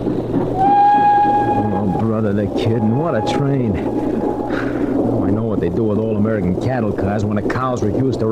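A steady low train rumble for the Riviera Express bound for Monte Carlo, a radio-drama sound effect, runs beneath continuous conversation throughout, with a brief whistle-like tone near the start.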